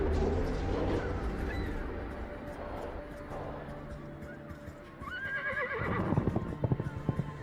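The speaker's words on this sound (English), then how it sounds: "the stallion launches itself from the cliffside before mighty wings carry it far above" A winged stallion in a fantasy video game neighs in a loud, shrill whinny and then takes off from a cliffside, with a wash of game sound effects and background ambience around it.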